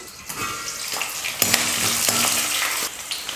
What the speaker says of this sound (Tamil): பச்சை மிளகாவை எண்ணெயில் போட்டதுமே மேலே தெறிக்க ஆரம்பிச்சிடும்.